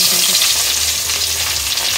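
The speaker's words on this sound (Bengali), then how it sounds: "মাছগুলো ভেজে নিই দেখি একটু সরে যাও তেলটা কি গরম হয়েছে" Fish frying in hot oil, a loud, steady hiss and sizzle up close that carries on without a break and with no voices over it.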